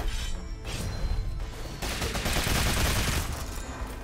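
Rapid gunfire crackles in dense, continuous bursts during Rogue Legacy 2 gameplay with a flying gun character, loud and sustained throughout.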